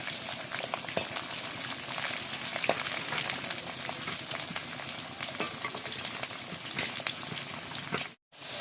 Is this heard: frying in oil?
yes